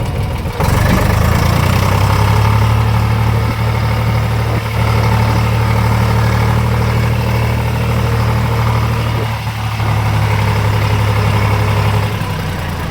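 A tractor engine idles loudly and steadily throughout, a constant low rumble with no voices.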